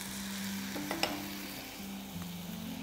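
Chopped onion frying in a pan for a kofta and potato soup gives a steady, even sizzle, with a low hum underneath and one sharp clink near the middle.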